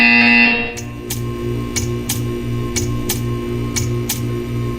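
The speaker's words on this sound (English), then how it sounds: "When you hear the buzzer, stare at the art." Repeated buzzer tones in the video game Portal 2, about eight short evenly spaced bursts over a steady low electronic hum, sounding clear and close with no talking.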